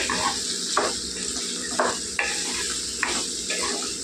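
Raw plantain pieces and onions fry in a pan for arati kaaya vepudu, with a soft continuous sizzle broken by about five sharp scraping stirs of a spoon against metal at a steady pace.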